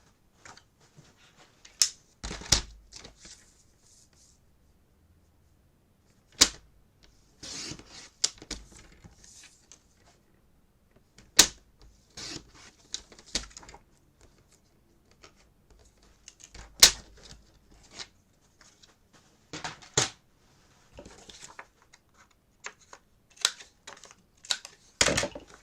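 Photo paper cut for a mini album, sharp scattered snips and clicks of a cutter or blade separated by quiet pauses, close and crisp.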